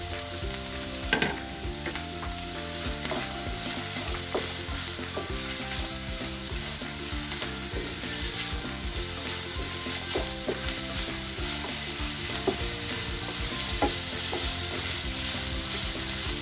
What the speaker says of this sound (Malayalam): 2 മീഡിയം സബോള കൊത്തിയരിഞ്ഞത്, 2-3 ഒരു തണ്ട് ചെറിയ കരിവേപ്പിലയാണ്, കറിവേപ്പില മുറിച്ചത് ചേർത്ത് നമുക്ക് വഴറ്റാം.